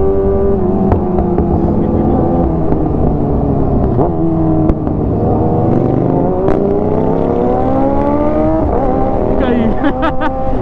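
A group of more than twenty superbikes rides through London, with loud engines roaring and revving throughout and pitch climbing as they accelerate in a continuous close pack.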